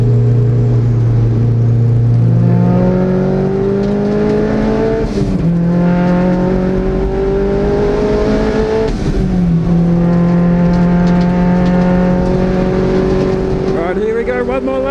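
A car at full throttle on a race track, close and loud, its engine note rising through the gears with sharp drops at each shift, while someone talks over it.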